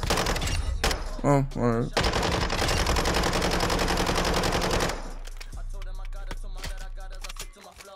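Sustained automatic RPK fire in Modern Warfare II empties the magazine in a loud, continuous burst, followed by scattered single shots and clicks. A voice speaks briefly over the gunfire.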